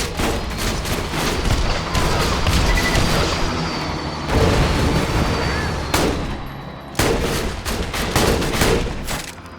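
Dense, sustained gunfire from Jacobs weapons in Borderlands 2, shots crackling in rapid bursts with booming impacts, loud and continuous with only brief gaps.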